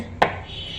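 A single sharp knife chop through an eggplant, cutting a round slice on a board in a home kitchen, brief and close, followed by quiet room tone.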